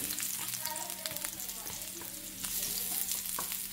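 Onions sizzle and fry in melted coconut oil in a pan, a steady close crackling hiss with occasional stirring scrapes and faint speech in the background.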